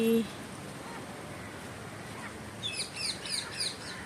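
A lone sparrow chirps in a natural outdoor setting, a quick run of high, bright calls toward the end over a steady background hiss, fairly near but soft.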